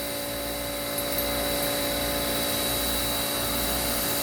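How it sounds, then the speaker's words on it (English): Bandsaw in a machine shop cutting excess material off a part, a steady continuous whine with a sustained tone and constant level throughout, with no talk. "I'm going to stand that up in the bandsaw and cut this excess material off here."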